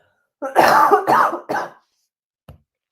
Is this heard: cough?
yes